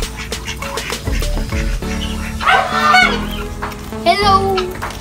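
A turkey gives repeated gobbling calls on a rural farm in Urbiztondo, Pangasinan, with other fowl clucking nearby and a dog barking in the background, loud and close throughout.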